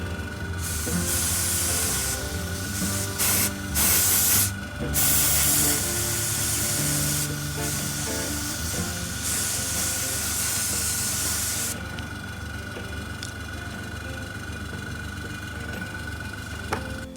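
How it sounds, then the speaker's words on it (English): An airbrush sprays Vallejo surface primer onto a miniature, making a steady, loud, close hiss that breaks off briefly several times. The spraying stops near the end, leaving a quieter background hum, and no voices are heard. "I already prepared the mix in my airbrush, so it's just the Vallejo surface primer."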